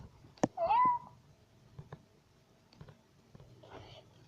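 A cat gives one clear, close meow with a rising then level pitch, followed by faint taps and rustling and a softer murmur of sound near the end.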